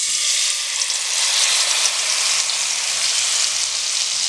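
Liquid chickpea batter for chana chaat fries in a pan with a loud, dense and constant sizzling hiss, close and steady throughout, with no voices.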